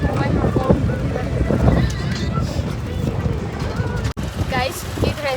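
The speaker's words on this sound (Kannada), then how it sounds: "ಕುದುರೆ ಗಾಡಿ ಇದೆ, ಅದರಲ್ಲಿ ರೌಂಡ್ ಹೋಗ್ತಾ ಇದ್ದೀವಿ." A horse-drawn cart carries passengers on a ride, the horse's hooves clip-clopping steadily under constant talk and wind noise.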